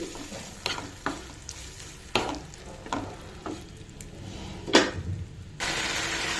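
Masala and tomato puree frying in a pan for egg masala curry: a low steady sizzle broken by repeated scraping stirs of a spoon, ending in a louder continuous hiss.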